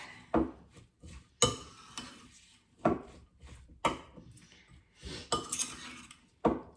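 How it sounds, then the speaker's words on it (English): A spoon mixing tomato puree into homemade salsa in a bowl, with repeated sharp clinks and scrapes against the dish at an uneven rhythm, close up and with no talk. "And then we'll just mix all that up."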